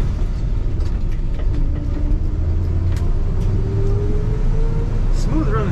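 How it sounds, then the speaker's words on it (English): A 1979 Chevrolet C20 Camper Special Scottsdale pickup with a stock exhaust runs smoothly and quietly, holding a steady, close, low engine rumble throughout. "Smooth running truck, quiet,"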